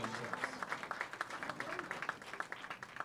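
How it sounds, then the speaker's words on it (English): Audience applause for high school bowling finalists at the 2021 Wisconsin High School Bowling Club State Championships (singles), a steady patter of many hands clapping at moderate distance with some voices mixed in. "one more round of applause for all of our finalists this afternoon"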